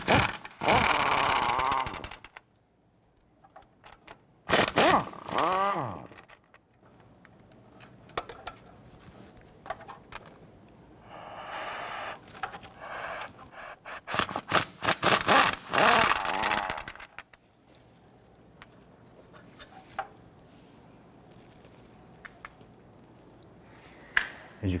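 14mm bolts being removed from a 1992-1996 Toyota Camry 2.2L water pump housing with a power tool, several short loud ratcheting bursts separated by quiet pauses, close up, with a few scattered clicks.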